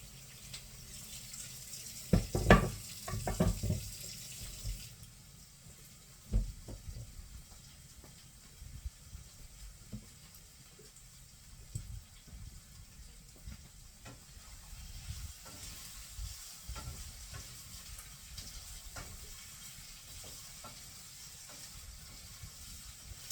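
Potatoes and onions fry in a pan for corned beef, a faint steady sizzle with scattered crackles and a few louder stirring clatters near the start, no talk.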